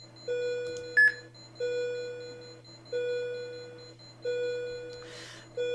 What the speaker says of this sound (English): We'll go ahead and we'll start our code timer.